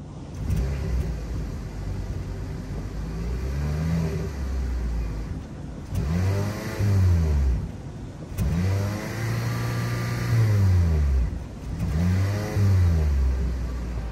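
A 2023 Hyundai Elantra Hybrid's 1.6 liter engine starts and revs repeatedly, rising and falling in several bursts with idling between, heard close up and fairly loud.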